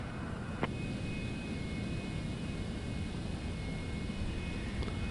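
A Citation X business jet taxis to the gate in Microsoft Flight Simulator 2024, its engines giving a steady, faint whine and hum throughout with little change.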